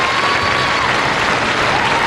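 A bowling match crowd applauding a strike in the foundation frame, a dense, steady burst of clapping that fills the whole moment at close range, with no voices over it.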